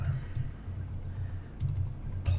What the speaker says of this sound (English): if I can type correctly